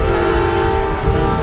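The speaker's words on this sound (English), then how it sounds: "a lot of people are starting honking their horns." Many vehicle horns blare together in a parking lot full of trucks and trailers, a loud, sustained chord of overlapping tones that holds without pause.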